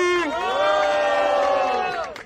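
A crowd at a freestyle rap battle, Batalha da Leste, cheers and shouts with a sustained, rising roar and whoops, loud and close, fading out briefly at the end.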